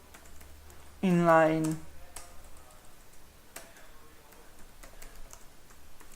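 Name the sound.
computer keyboard typing HTML code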